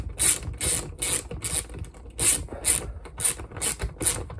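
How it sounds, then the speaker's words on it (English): Screws being tightened into the burner of a Webasto EVO heater: a steady run of crisp, ratcheting clicks in short repeated strokes, close and loud, with no talking. "let's just tighten these down."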